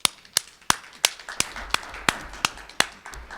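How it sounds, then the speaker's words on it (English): Applause for school committee members at a sparsely attended meeting: about ten sharp, evenly spaced claps, close and fairly loud, sounding like a few people clapping together rather than a large crowd. "we can all clap loud"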